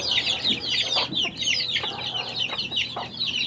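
Chickens clucking steadily and close on a backyard poultry farm, a busy layered chorus of overlapping clucks and calls filling the whole stretch without pause.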